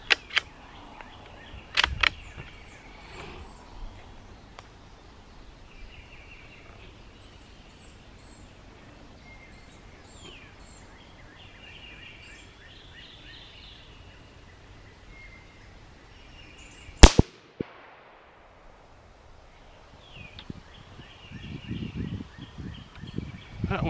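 Sharp, sudden cracks from a Marlin 17V rifle chambered in .17 HMR: two shots a few seconds in, then one more much later, with birdsong carrying between them outdoors.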